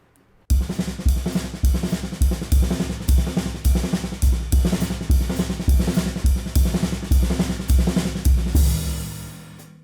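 Fast, continuous paradiddle-diddle rolls on the snare with the last note replaced by a bass drum thump, giving regular bass drum thumps and cymbal wash throughout.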